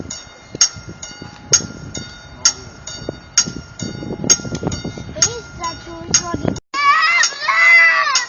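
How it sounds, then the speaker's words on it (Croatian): A train rumbles and clatters past a railway crossing nearby with rhythmic wheel clacks and the crossing bell ringing repeatedly, then a loud horn blares near the end. "Gle, Erik, ide sad vlak."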